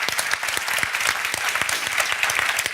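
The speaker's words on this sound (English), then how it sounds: "A round of applause" A conference audience gives a steady, full round of applause, dense close clapping sustained throughout with no talk over it.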